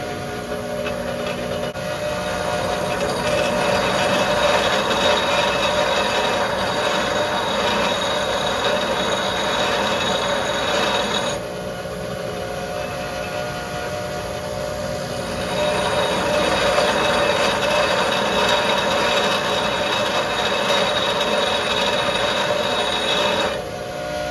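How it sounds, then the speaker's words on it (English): A bench grinder sharpens a drill bit with a steady, harsh grinding whine that runs throughout, dipping briefly midway as the bit is lifted and then pressed back against the wheel. "So I'm just going to grind some more"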